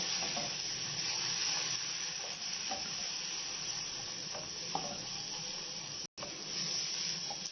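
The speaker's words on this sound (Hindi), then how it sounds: "देखिए जनाब कितना मजे का भून रहा है" Masala of tomatoes and green chillies frying in a pan for kofta curry, giving a steady close sizzle with light stirring scrapes throughout, broken by one brief dropout near the end, with no one speaking.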